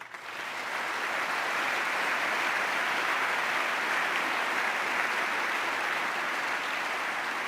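Applause in the US Congress chamber: sustained, dense clapping from a large audience, rising quickly and holding steady and even.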